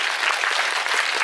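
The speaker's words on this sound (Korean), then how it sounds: "박수 주시죠" A cinema audience at a film screening Q&A in Seoul claps, a brief dense burst of steady applause from a crowded room.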